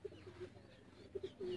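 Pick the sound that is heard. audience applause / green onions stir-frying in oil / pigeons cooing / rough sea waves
pigeons cooing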